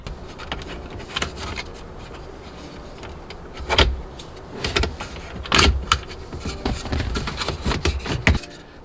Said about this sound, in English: What you want to do is just stick it into the slot here and just pry it.